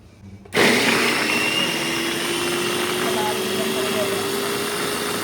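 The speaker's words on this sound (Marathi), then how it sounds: "आपण ना पहिला मस्त कांदा एकदम बारीक करायचा आपल्याला." A kitchen blender whirs into life after a brief pause, finely chopping onion for a seafood boil, running loud and steady at close range with a constant high motor whine.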